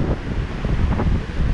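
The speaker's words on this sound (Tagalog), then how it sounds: "At sobrang lakas na po ng hangin." Strong wind gusting along a seashore, with big surf churning nearby, makes a steady broadband roar with buffeting bursts, loud and continuous, with no voices.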